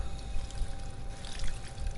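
Water gulped from a source in the Fallout 4 video game, heard as a steady pouring, trickling rush that runs unbroken and fairly loud for about two seconds.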